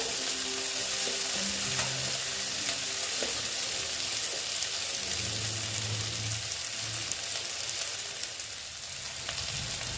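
Tomatoes fry in a steel kadai with a continuous dense sizzle and crackle, close and steady for the whole stretch, with occasional soft stirring scrapes underneath.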